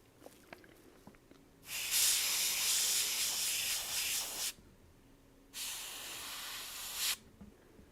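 An airbrush sprays paint onto figures in two sustained hissing bursts, the first about three seconds long and the second shorter, with quiet handling noises between and no speech.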